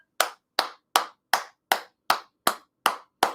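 One person clapping alone, nine sharp, evenly spaced claps at a steady moderate pace, close and crisp with short decays and no talking.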